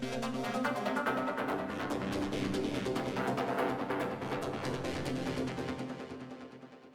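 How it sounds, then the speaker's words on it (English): A Zebra synthesizer track plays by itself as dense, sustained tones with a quick repeating pulse, holding a steady level before fading out at the end. "this zebra by itself sounds like this"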